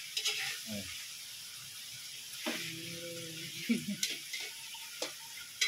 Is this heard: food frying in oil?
yes